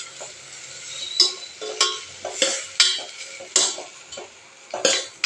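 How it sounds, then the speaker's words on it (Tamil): Vegetables stirred and sautéed in a pan, a spoon scraping and clinking against the pan in repeated strokes about every half second over a soft sizzle, close and clear with no talking. "இவ்வளோத்தையும் சேர்த்து நல்லா ஒரு மிக்ஸ் பண்ணி விட்டுக்கலாம். காய் கொஞ்சம் நேரம் வதங்கணும்."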